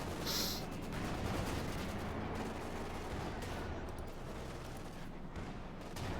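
Field gun fire in Company of Heroes 2 during a battle with a Panzer IV, continuous distant booms and gunfire rumble over a dense, steady battlefield din.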